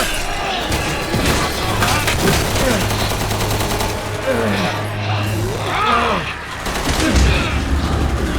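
Gunfire in a Resident Evil demo video game, aimed at a mutant, sounds as dense rapid bursts and crashes throughout, mixed with game effects and groans, while a player talks over it.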